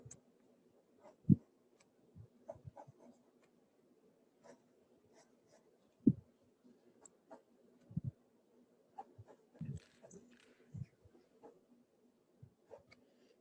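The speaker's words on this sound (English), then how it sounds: "So once I have that, then I'm gonna go ahead and just sketch." Pencil sketching an appliqué pattern by hand, with quiet scattered scratches and taps of the lead on paper, faint and irregular with pauses between strokes.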